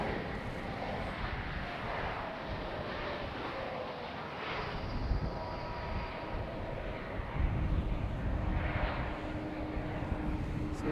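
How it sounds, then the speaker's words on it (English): A JetBlue Airbus A220 airliner touches down at Raleigh-Durham airport, a faint, distant steady jet roar with wind buffeting the microphone, growing slightly louder toward the end. "another JetBlue A220 touching down"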